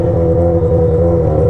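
A Yamaha XJ6 motorcycle fitted with a 4-inch exhaust pipe idles close by, a loud, steady low throb with an even pulsing rhythm and no voices over it.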